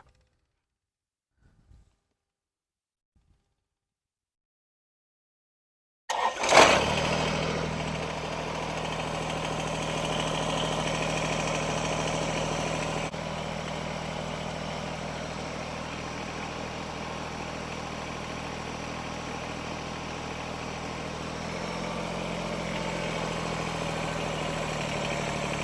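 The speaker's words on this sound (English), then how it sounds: "So now we start the tractor." A Kubota BX25D compact tractor engine cranks and fires after a short silence, then settles into a steady, loud, close idle with a slight drop in pitch partway through.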